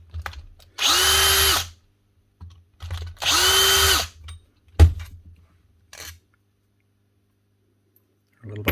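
A faulty AGP DMC6P diamond core drill motor runs in two short bursts of about a second each. Each burst has a strained, high whine, and clicks and knocks sound between them in a quiet workshop.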